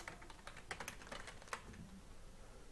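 Fingers tap out a short burst of quick, uneven keystrokes on a computer keyboard, faint and close, with no voices.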